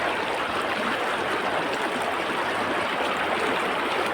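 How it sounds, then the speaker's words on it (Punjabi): Water flows steadily along a stream near Panchkula, a constant, close rushing and bubbling wash with no voices and no break. "ਦੇਖੋ ਪਾਣੀ ਕਿੱਦਾਂ ਚੱਲਣ ਲਿਆ ਗਾਇਜ਼"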